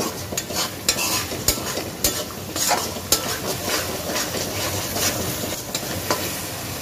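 Spice masala with coriander paste is stirred and fried in oil in a pan, with repeated close scraping and tapping strokes over a continuous sizzle.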